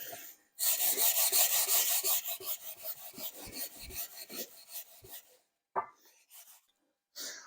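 Fine 600-grit sandpaper rubbed by hand over an aluminium spark plug cover from a Vauxhall C20XE/C20LET engine, making close, rhythmic rasping strokes that fade in strength before stopping, with a few brief scrapes afterward.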